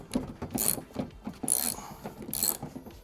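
Torx screws being undone from the door lock mechanism of a Porsche 986/996, heard as repeated short ratcheting clicks and mechanical ticks with a few sharper metallic bursts, close and fairly quiet.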